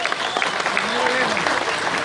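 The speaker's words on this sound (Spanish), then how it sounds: "Más fuerte el aplauso para México," Applause from an audience at a women's cycling stage award ceremony, a steady wash of clapping that carries on under a voice and the tonal sound of music.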